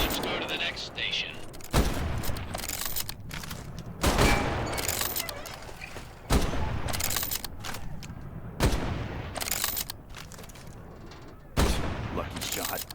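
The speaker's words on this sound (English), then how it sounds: "The K98 is a bolt-action rifle, so you reload by pulling and pushing the bolt after each shot" K98 bolt-action rifle shots in a Medal of Honor VR game, six loud single cracks spaced about two seconds apart, each with a booming tail, and bolt-working clatter between them.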